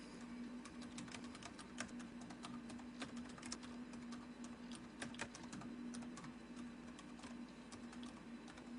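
Quiet, irregular clicking of keys on a computer keyboard as text is typed into an Excel spreadsheet, soft taps scattered in quick bursts over a low steady hum.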